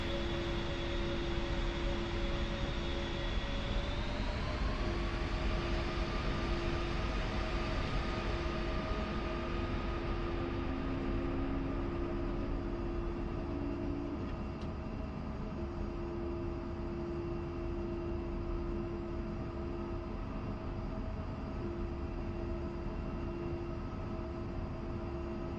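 Aircraft engine hum in a flight simulator game while taxiing to the runway, a steady whine and drone with a pitch rise early on, then holding at an even, continuous level with no talk.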